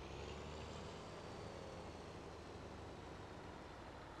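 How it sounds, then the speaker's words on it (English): A truck tractor engine in the video game American Outback runs at a steady idle, with a continuous low rumble and broadband mechanical noise held at an even loudness throughout. "I love the noise that this tractor makes."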